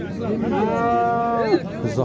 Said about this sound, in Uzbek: Buzoq.